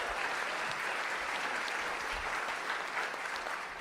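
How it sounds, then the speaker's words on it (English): A crowd applauds at the 2019 International Folk Music Awards, a dense, continuous wash of clapping heard at a distance throughout. "Give him a round of applause."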